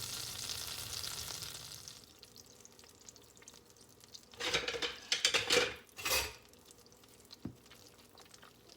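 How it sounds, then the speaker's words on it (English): Butter and brown sugar melting together in a pan give a quiet, steady sizzle, with a few clinks and scrapes of a utensil stirring against the pan in the middle. "while we get our butter and brown sugar melted together"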